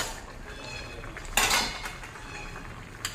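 A cooking-pot lid lifts off with a short metallic clatter partway through, over a pot of light chara fish curry with snake gourd simmering on the stove; a faint clink follows near the end.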